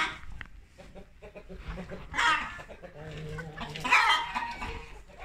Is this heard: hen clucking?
yes